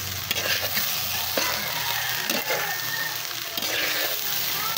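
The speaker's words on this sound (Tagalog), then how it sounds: "Halu-haluin lang muna natin ito para magsama-sama ang mga sangkap" Tomato sauce with chili being stirred in a pan, steady close sizzling with soft scraping strokes of a spoon throughout, no talking.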